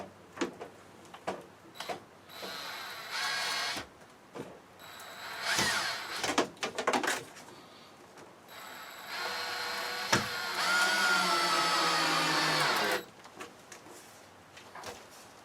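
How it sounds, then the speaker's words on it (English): A power driver whirs in short and longer bursts as screws go into wood trim inside a travel trailer, with pauses, clicks and handling noise between runs. "So let's go ahead and get these things screwed in."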